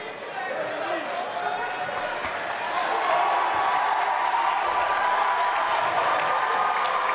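A crowd at a high school boys basketball tournament game, Fairhaven Blue Devils against Norton Lancers, applauds and cheers in a gym. The steady roar swells louder partway through, with commentary running over it.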